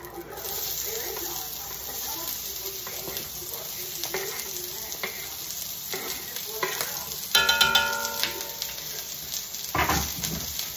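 One large yellow onion sautés in a pan with a soft, continuous sizzle and occasional stirring scrapes. A voice talks lightly over the cooking.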